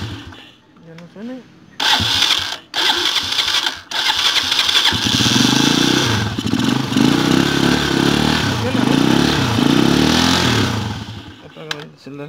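A poorly maintained motorcycle's starter motor grinds and whirs noisily as the engine cranks and catches, running loudly and close up for several seconds, with someone talking around it.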